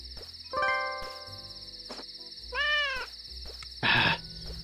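Three cartoonish cat meows from the video game Dave the Diver, with rising-falling pitch, spaced apart over a steady high-pitched electronic tone and soft game-like background sounds.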